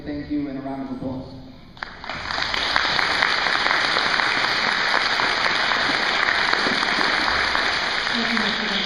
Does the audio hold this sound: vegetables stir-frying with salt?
no